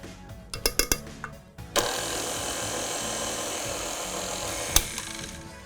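An electric mixer runs steadily on low speed, blending powdered sugar into cream cheese frosting for a hummingbird cake, a continuous whirring drone after a few brief clatters at the start, close and alone.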